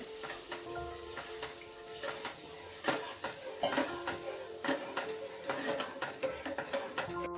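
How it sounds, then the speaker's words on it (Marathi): Milk is stirred into flour already roasted in butter for a white sauce, a soft continuous sizzle and hiss with repeated light scrapes and clicks of a spoon against the pan, close and quiet. "मी आता ह्याच्यामध्ये ना दूध ऍड करून घेणार आहे, ते छान मिक्स करून घेणार आहे"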